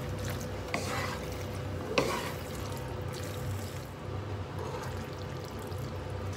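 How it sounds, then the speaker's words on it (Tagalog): Macaroni stirred in a pan for Filipino-style cheesy baked macaroni: soft, wet scraping and sloshing with a couple of sharper knocks against the pan, fairly quiet and steady throughout. "Saka natin halu-haluin"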